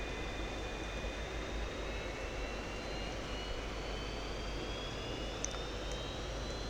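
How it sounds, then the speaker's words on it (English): A Pakistan Air Force F-86F Sabre jet rolls down the runway, a steady distant turbine roar with a faint high whine running underneath, constant in level throughout. "So we're going to roll this aircraft down the runway."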